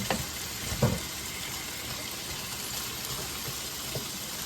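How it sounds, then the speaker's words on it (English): Onions drop into a hot pan that already holds broccoli and begin frying: a steady, moderately quiet sizzle with a couple of brief clatters near the start. "we're going to go ahead and drop the onions in and get those started cooking"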